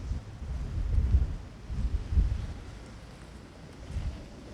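Strong Storm Ciarán wind buffets the microphone on the Essex coast, producing low, gusty rumbling that swells and fades in uneven bursts.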